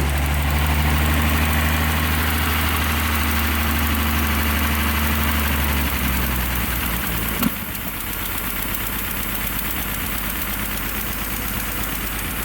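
An old carbureted engine idles while warming up, a steady, slightly knocking mid-pitched rumble that drops a little in tone partway through, with a brief click and no talking.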